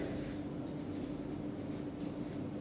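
Pen or chalk writing out a chemistry formula, a faint continuous scratching with small rhythmic strokes over a steady background hiss.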